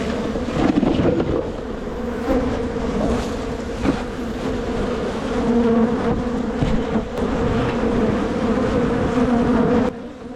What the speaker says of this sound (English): So you can already see the bees flooding out.